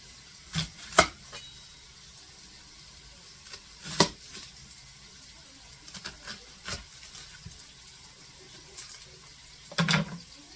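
A knife chops an onion on a board in scattered, uneven strikes, some sharper than others, over quiet kitchen background with no talking.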